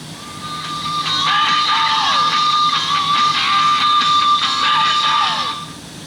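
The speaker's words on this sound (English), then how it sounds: "The 8-track works." A vintage Panasonic RS-836S AM/FM stereo 8-track player playing a tape: loud, steady music with layered tones and sliding pitches fading in and out at the ends, no talking.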